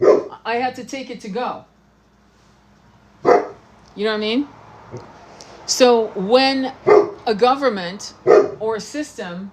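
A dog barks in short bursts nearby, mixed in with someone talking steadily at close range.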